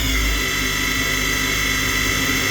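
A PolyGim Diamond 42CSL CNC Swiss hybrid lathe spins at 6,000 RPM max speed, a loud, steady high-pitched whine with layered tonal hum, close and continuous with no talk.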